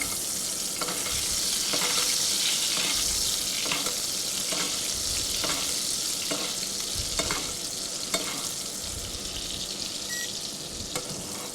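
Fish fries in a pan while being basted, a steady bright sizzle and crackle with faint scraping and spooning sounds recurring every second or so, close by and without talk.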